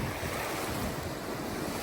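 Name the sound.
ocean waves breaking on a reef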